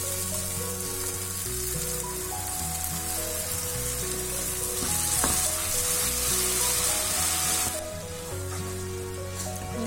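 Ground tomato paste hitting a hot kadai while cooking lauki kofta gravy, a steady loud sizzle and bubbling hiss that swells midway, with occasional clinks of a utensil.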